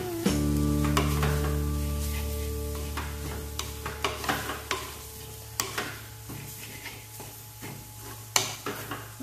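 A spoon stirs grated coconut and drumstick leaves frying in a pan, scraping and knocking against the metal at close range while a steady sizzle hisses underneath.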